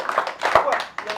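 Audience clapping breaks out at an arts-scene talk in Kupang, a short patter of hands mixed with voices talking over it.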